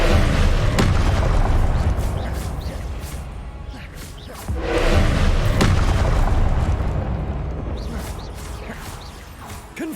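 Fiery blasting spell explosions in a Harry Potter video game, a dense, continuous barrage of booming bursts and crashes that swells, dips near four seconds, then surges again, loud and close throughout.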